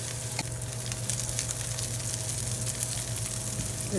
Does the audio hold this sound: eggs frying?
yes